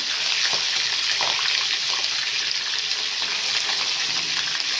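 Green chillies and curry leaves frying in hot oil, a dense continuous sizzle and crackle with a few faint stirring knocks, close and loud throughout.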